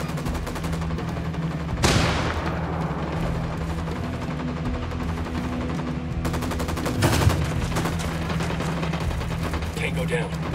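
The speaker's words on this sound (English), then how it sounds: "Firing." Gunfire in a military shooting video game: a steady rattle of automatic fire with two louder bursts standing out, over a constant low rumble, with voices faintly present.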